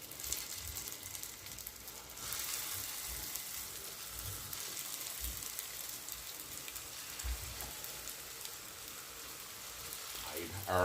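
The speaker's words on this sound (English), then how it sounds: "the olive oil's been heating for about a minute. Let's start adding our" Meatballs sizzling in hot olive oil for classic Italian meatballs, a steady, soft crackling fry that holds throughout at a moderate, even level with no talk.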